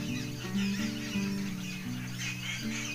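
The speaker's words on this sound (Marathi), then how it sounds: "मगापासून आवाज येतो पक्ष्यांचा, भरपूर चिवचिवाट चाललेला आहे." A crowd of birds chirps and tweets outdoors in a continuous, busy chatter, fairly faint, layered over a steady low humming drone.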